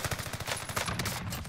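Rapid automatic gunfire in Call of Duty: Warzone, a close, dense burst of repeated shots rattling evenly for over a second with no speech.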